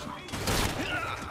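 A burst of gunfire in Assassin's Creed Syndicate: a quick cluster of shots with a sharp crack near the end, fairly close and punchy.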